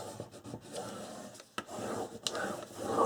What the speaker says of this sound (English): turn it over and burnish.